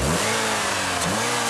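A 2013 Acura ILX's 2-litre four-cylinder engine revs steadily, its tone climbing and dipping slightly, close and loud with no voices.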